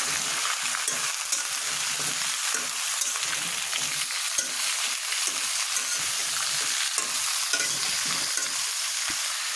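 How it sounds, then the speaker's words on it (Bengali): Ash gourd and fish curry is stirred in a sizzling pan, a steady hiss of frying with soft scraping strokes throughout, close and continuous with no talk. "একটু ভালোভাবে আমি নাড়াচাড়া করে নিই"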